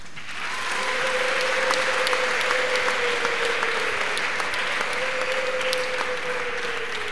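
Church ceremony crowd clapping steadily while high ululating cries rise and fall above the applause, a sustained joyful din lasting several seconds.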